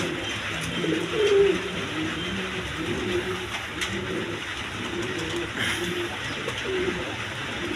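A pair of Indian Bombay pigeons cooing softly at close range, low repeated throaty coos over a steady background hum.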